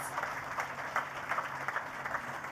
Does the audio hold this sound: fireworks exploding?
no